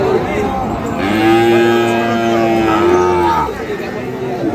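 Sahiwal bulls and calves at a rural cattle market (haat) in Dinajpur, low drawn-out moos, one long call rising and holding for several seconds, close and loud over a busy background of market noise.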